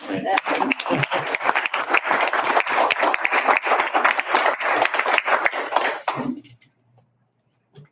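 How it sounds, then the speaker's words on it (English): A crowd at a school board meeting claps loudly in a sustained burst of applause lasting several seconds, then it stops abruptly into near silence. "give you an applause"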